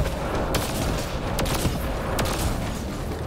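Sniper gunfire from the video game Mass Effect Andromeda: three sharp, loud cracks spaced about a second apart rise over dense, continuous battle noise, with no talk.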